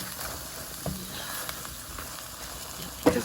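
A pan of seasoned liquid, cooking down with a soft, continuous sizzle and bubbling, steady and close, with a brief clatter near the end.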